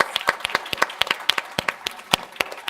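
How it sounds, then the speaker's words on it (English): A small audience claps for a speaker at a panel event, a sparse scatter of distinct individual handclaps at moderate volume, fairly close and without voices. "I want to give Rachel just another round of applause"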